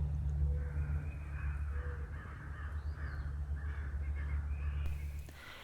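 Several crows caw repeatedly at a moderate distance across a calm, quiet outdoor battlefield site, their harsh calls coming in an irregular series over steady low wind rumble.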